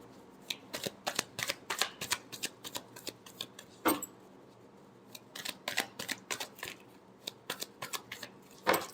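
Tarot deck shuffled by hand up close, with quick, dense riffling card flicks in bursts, a brief pause midway, then more rapid shuffling.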